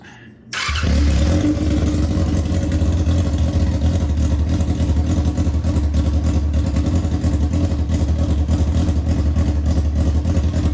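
A trashed Yamaha R6 motorcycle engine, running without exhaust, cranks and catches, then holds a loud, raw, steady roar close by for about ten seconds.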